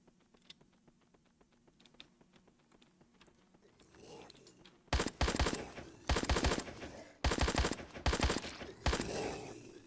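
Shotgun blasts aimed at zombies in an indie shooter game arrive as about five loud, sharp booming shots spaced roughly a second apart. They follow several seconds of quiet ticking and shuffling game ambience.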